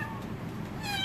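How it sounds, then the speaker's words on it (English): Young rescue kittens meow at feeding time, a thin, high mew rising over a hissy background near the end of a short moment. "Stop meowing and eat."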